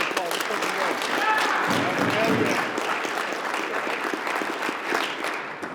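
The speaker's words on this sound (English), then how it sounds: "Give yourself a clap." A team gathered in a meeting room at a football training camp clapping together, a steady dense wash of applause that holds for several seconds with voices mixed in underneath.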